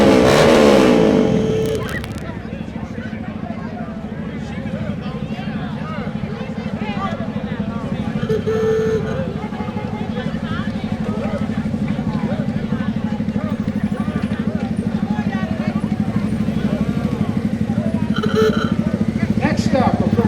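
Cars from the Caribbean Cruisers Car Club rolling past the reviewing stand in a George Washington Birthday Parade in Alexandria, Virginia, a continuous engine drone with a louder passing vehicle at the start and crowd noise around.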